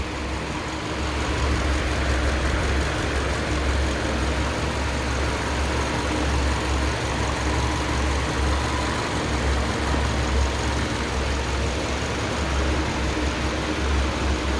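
A 2007 Subaru Impreza engine with a freshly rebuilt bottom end, stock top end and stock exhaust idles on its first start, a steady close rumble holding even throughout with no voices.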